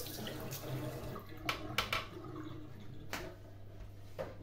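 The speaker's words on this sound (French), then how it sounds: "Donc on va rincer le panier. Je vais rincer un petit peu." Water splashes faintly while the basket of an Ultenic AC1 Elite is rinsed, coming in a few short uneven gushes over a low steady background.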